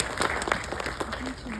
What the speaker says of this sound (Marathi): एकदा साहित्यदीप संस्थेसाठी जोरदार टाळ्या